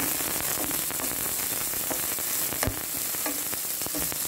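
Green onions sizzle and fry steadily in a preheated pan while a vegetable stir-fry is being started, with a dense, continuous crackle and scattered sharp pops close by, and no talking.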